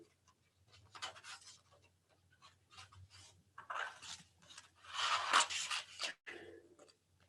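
Scissors snipping through paper for a kids' paper craft, a series of short close crisp cuts and rustles in bursts, quiet overall.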